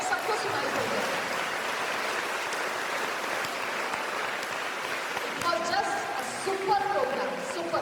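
An Independence Day celebration crowd claps in a sustained, dense wash of applause, with a few voices and brief tones rising near the end.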